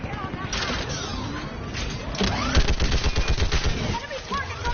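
Heavy mounted gun fires in bursts in Mass Effect Legendary, loud and close, dense rattling volleys over a chaotic battle din, with shouted speech mixed in.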